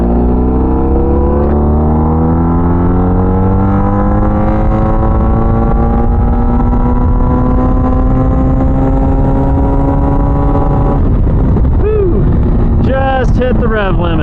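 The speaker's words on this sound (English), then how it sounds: "Hit the rev limit." A car engine revs up to the rev limit, its pitch climbing steadily and loudly for about ten seconds before bouncing and dropping off in a few sharp blips, with wind noise throughout.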